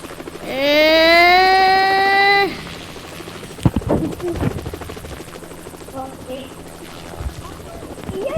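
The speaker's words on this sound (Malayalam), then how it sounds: "നമ്മളെന്തായാലും ഹെലികോപ്റ്റർ എടുത്തോണ്ട് പറന്നിട്ടുണ്ട്." A helicopter in the Roblox video game gives a steady rising rotor whine for about two seconds. Afterwards, thumps and scattered game noises follow under quiet background sound.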